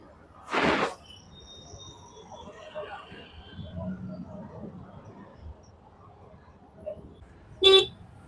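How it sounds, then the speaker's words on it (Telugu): Cars on a busy road sound their horns. One sharp honk comes early and a second one comes near the end, with a low rumble of traffic and faint voices in between. "చూడండి గాయ్స్, ఎంత డేంజర్ ట్రాఫిక్ ఉంది మొత్తం"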